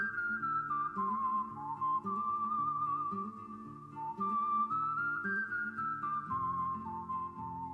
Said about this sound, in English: we hear whistling accompanied by guitar